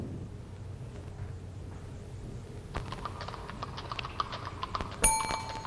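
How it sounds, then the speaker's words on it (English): Quiz-game sound effect of a horse galloping, a run of quick rhythmic hoof clops that starts faint and thickens toward the end, fairly quiet and alone with no talking. "Is it a horse galloping?"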